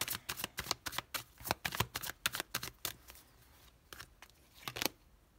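Tarot cards are handled and one is laid over another: a quick run of close, crisp papery flicks and slaps that thins out into a few lighter taps.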